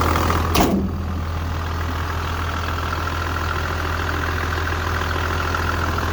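A Toyota Land Cruiser 80 Series turbo diesel engine idles with a steady low rumble after a brief knock at the start, running evenly and close by.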